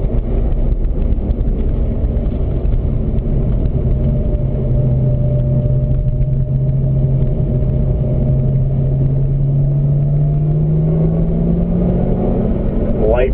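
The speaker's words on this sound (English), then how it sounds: "Upshift from third into fourth gear, Rick." A Chevrolet Corvette ZR1 engine accelerates on a race track, a loud continuous roar with a rising tone that climbs steadily, heavy wind buffeting throughout and a brief shift near the end.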